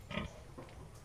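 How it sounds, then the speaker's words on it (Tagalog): Pigs on a farm, including large white breed sows, giving a couple of short grunting oinks close by, faint over a quiet background. "Excited na po kami maparami ang baboy ni Krista"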